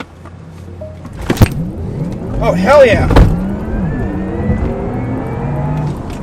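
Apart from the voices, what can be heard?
electric car launch control acceleration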